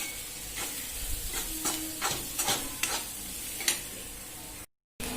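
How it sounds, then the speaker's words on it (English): Mixed vegetables for pav bhaji cook in a pan, a soft steady sizzle broken by several scraping stirs of a spoon, fairly quiet and close with no voices. "Now let the vegetables cook for some time."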